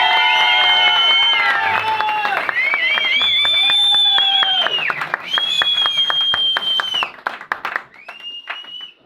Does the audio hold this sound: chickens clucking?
no